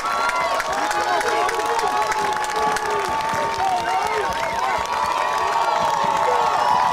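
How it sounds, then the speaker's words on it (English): A crowd cheers and applauds at a Michigan high school Division III state final game, a loud, continuous roar of clapping and shouting that fills the arena, with an announcer's voice faintly under the noise. "Crowd here getting energetic."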